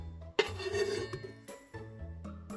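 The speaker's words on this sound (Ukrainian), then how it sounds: "Груші ми будемо варити, тому часточки поміщаємо у каструлю" Clinking and knocking of pear slices dropped into a metal pot, a few soft irregular clatters close by with quiet pauses.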